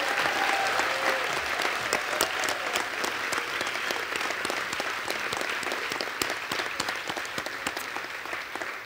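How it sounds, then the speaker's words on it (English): An audience at an employee recognition and leadership awards ceremony applauds its award winners, a dense, steady round of clapping that holds loud and even throughout. "Why don't we give one more round of applause for all of our winners?"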